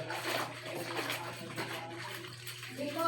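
Running water splashes steadily into a basin during hand laundry, a continuous broadband wash with no clear gaps and a faint low hum beneath it.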